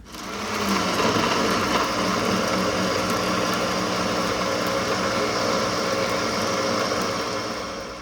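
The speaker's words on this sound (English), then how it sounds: "close the lid and then start blending" A countertop blender whirs through herbs and salt for a green seasoning, its motor spinning up quickly and then running in one continuous, high-pitched steady whine.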